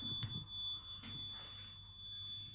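A ghost-hunting meter in a dim room gives off a faint, continuous high-pitched electronic tone, steady throughout, with a couple of soft knocks and rustles beneath it and no voices.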